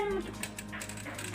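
A dog whimpers in a high, thin whine at the start of the clip, close to the microphone, while household noise and talk carry on in the background.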